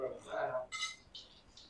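A few light metallic clinks and rattles of a spoon against dishes, brief and close, with a murmur of voices at the start.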